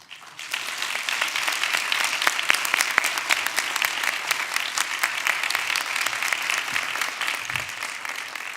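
An audience at the 2023 Do Good Challenge finals applauds the finalists and semifinalists, with sustained, dense clapping from many hands that swells in and continues steadily throughout.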